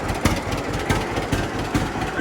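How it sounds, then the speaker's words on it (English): Farm tractor engine running steadily at idle just before shutdown, a continuous low rumble with periodic regular thumps, fairly close and moderately loud, no talking. "And now to shut down the tractor"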